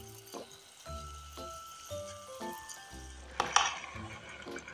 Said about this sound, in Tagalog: Then, sunod ko na ilalagay yung ating repolyo o cabbage.